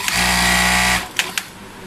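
An industrial sewing machine runs with a loud steady whir for about a second, then stops, followed by two sharp mechanical clicks.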